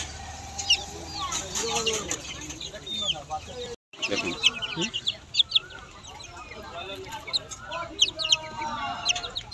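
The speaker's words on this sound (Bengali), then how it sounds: "কোয়েল পাখি এবং মুরগির বাচ্চা রয়েছে" Chickens and chicks at a pet market, repeated clucking and bright cheeping close by with a few wing flaps, while a person speaks briefly over the busy poultry noise.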